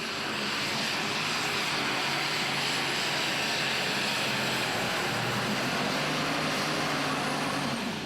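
A light weight super stock pulling tractor roars hard as it drags the sled at a 2015 tractor pull in Franklin, KY, giving a continuous, dense, distant-sounding engine drone with a slight pitch dip partway through and no talk.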